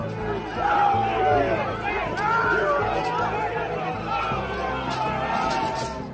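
Large crowd of protesters at the Capitol pushing over barricades, a loud continuous babble of many voices with shouts rising and falling throughout, dense and close.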